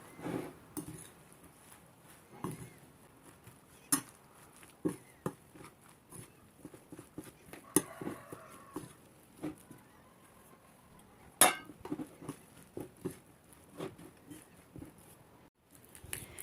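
Flour being stirred into a grated zucchini mixture in a bowl: faint, sparse clinks and scrapes of a utensil against the bowl, quiet between irregular taps.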